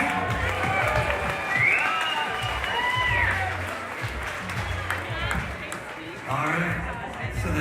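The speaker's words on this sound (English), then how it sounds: "How about a round of applause for you?" An audience at an Ottawa championship event applauds in a sustained, broad wash of clapping and crowd noise, with a voice speaking over it.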